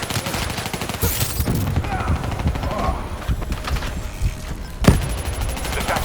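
Rapid gunfire crackles steadily as bats are shot down during the New World mission of Call of Duty: Black Ops III, with dense bursts over busy game ambience and one sharper, louder report near the end.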